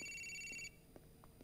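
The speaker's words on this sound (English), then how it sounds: "The phone's ringing." Telephone ringing in GTA IV: a steady electronic ring tone runs for about two-thirds of a second and then cuts off, leaving quiet game background with a few soft knocks.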